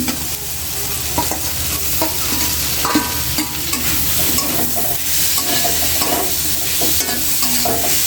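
Shrimp stir-frying with taro stolons and a little chili powder in a pan: a steady, close sizzle with repeated scraping stirs throughout, no talking.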